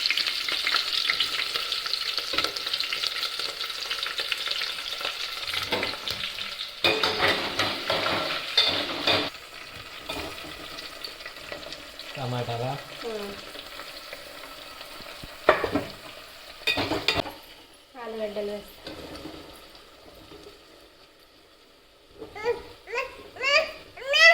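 Onions and green chillies fry in a pan for a potato fry curry, a steady close sizzle with stirring clatter, broken by short quiet gaps and a few faint background voices.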